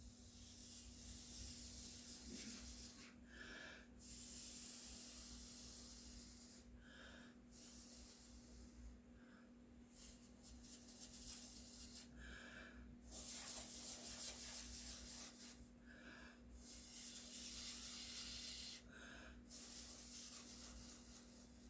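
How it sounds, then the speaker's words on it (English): Acrylic paint blown through a silicone straw across a bath-bomb style painting, heard as five or six short breathy puffs spaced a few seconds apart over a steady low hum, close and fairly quiet. "And so I'm going to use my silicone straw."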